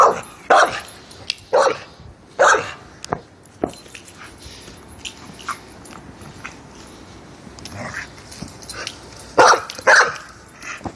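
Highlander pup barking in bursts, sharp close barks and yips in clusters separated by quieter pauses with some whimpering between.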